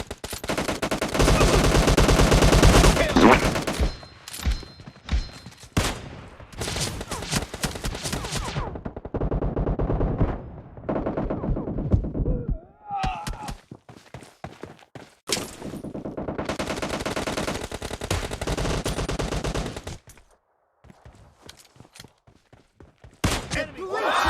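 Gunfire in a PUBG Mobile Lite team deathmatch, loud bursts of rapid automatic fire and single shots in several separate volleys with short quiet gaps between them.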